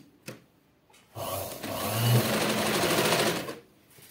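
A sewing machine stitches a hook strip onto fabric for the front panel of a princess-cut garment: a few soft clicks, then a steady, close motor whir of about two and a half seconds that stops abruptly, with no talking.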